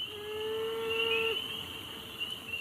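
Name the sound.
male beaver mourning its lost family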